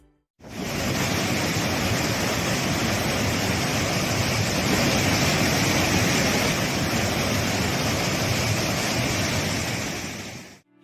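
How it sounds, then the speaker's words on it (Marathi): A monsoon waterfall fed by Paleshwar dam water in Shahuwadi, Kolhapur, pours in a dense, steady roar of rushing water, loud and unbroken throughout with no voices. "पालेश्वर धरणाच्या पाण्यामुळे प्रवाहित होणारा हा धबधबा आहे"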